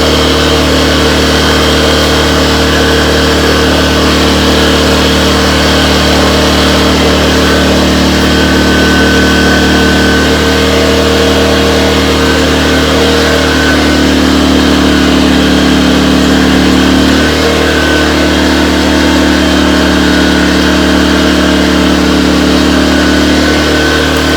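A Firman 2000 portable generator, model W01682, runs with no load plugged in, giving a loud, steady engine drone that holds for the whole stretch with small shifts in pitch and no talking.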